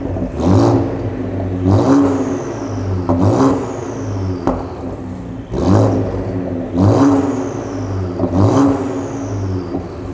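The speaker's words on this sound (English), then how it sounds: "It sounds really good, so I'm gonna let you guys hear the turbo spool." A Ford Explorer ST with an MBRP catback exhaust and catted downpipes revs repeatedly, about five times in a steady rhythm. Each rise in engine pitch comes with a whistling turbo spool, heard loud and close with no talk.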